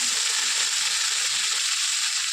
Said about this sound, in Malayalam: ആദ്യം അതിലേക്ക് കുറച്ച് സവാള ഇട്ടുണ്ടാകും, അതുപോലെ തന്നെ പട്ടയും ഗ്രാമ്പും ഏലും